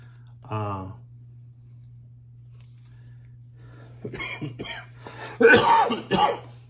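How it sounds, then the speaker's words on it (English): A short throat-clearing sound, followed after a pause by a few rough coughs and muffled vocal noises up close. "Pardon me, that's cough number 2."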